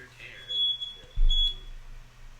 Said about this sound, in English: Smoke alarm is going off.